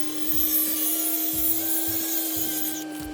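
A tapered sealing portion being cut off a turbo oil drain flange on an E46, giving a steady, close rasping and scraping with repeated strokes.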